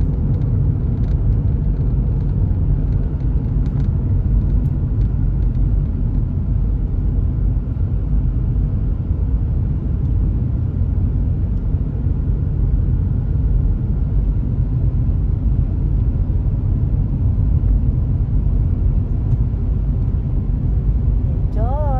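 A car drives through downtown Calgary in traffic, its engine and road noise forming a steady, close low rumble that continues without a break.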